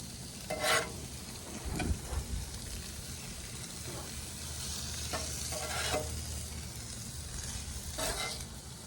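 Steak and vegetables, including green onions, fry on a griddle in a steady, close sizzle, with intermittent scraping and clattering as they are pushed around.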